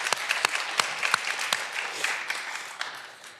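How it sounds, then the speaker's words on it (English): Audience applauding at a commencement ceremony for education and diversity and inclusion leadership programs, steady close clapping from a small crowd with sharp individual claps standing out throughout. "Yeah, we can applaud David."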